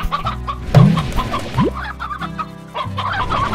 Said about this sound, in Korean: 여기는 암탉 좀 먹이를 줘야 더 병아리가 나네.